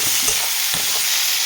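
Cauliflower and potato pieces sizzle loudly in hot oil with salt and turmeric, stirred close up with soft scraping strokes over a constant dense frying hiss, no voices.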